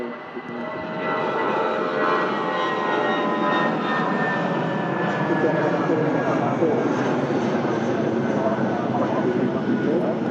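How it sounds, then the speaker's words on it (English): An Airbus A380 jet at Manchester Airport roars steadily and loudly throughout, a broad sustained engine rumble with whining tones, with people talking faintly over it. "Another Airbus A380 being used there on the BA shuttle service."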